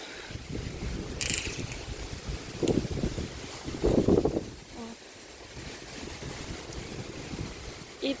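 Wind blows outdoors after rain at a farm paddock where a mare and foal graze, a steady broadband rush with gusty buffeting swells near the mic and a few faint creaking, mechanical-sounding knocks, no talking.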